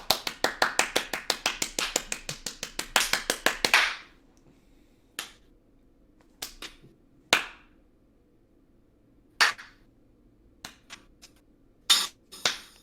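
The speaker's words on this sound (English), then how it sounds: "Hey, Sean, give us a round of applause for that one." A small group claps quickly and in rhythm after a song on a casual podcast, then the claps trail off into a few isolated, sharp single claps separated by pauses.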